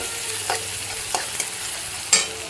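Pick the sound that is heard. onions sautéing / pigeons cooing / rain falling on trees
onions sautéing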